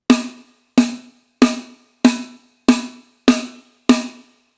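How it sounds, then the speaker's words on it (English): Seven sharp, ringing snare rim shots struck at an even, steady pace, each with a bright crack and a short resonant tail, heard alone. "The rim shot seems to have more aggression and brings out more tone from the snare drum"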